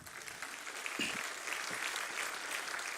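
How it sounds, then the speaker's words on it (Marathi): A hall full of people applauds at a memorial event, producing a steady, moderately loud wash of clapping that continues throughout with no speech over it. "त्याबद्दल आपण टाळ्यांचा गजर करावा"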